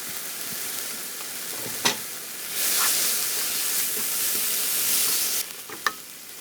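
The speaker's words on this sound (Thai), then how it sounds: "ซอสบาร์บีคิว อย่างที่เราชอบเลยค่ะเทลงไปแล้วก็ผัดทุกอย่างให้เข้ากัน" Beef being stir-fried with barbecue sauce gives off a bright, continuous sizzle and hiss close by, swelling louder partway through, with a few sharp scrapes and clinks of stirring.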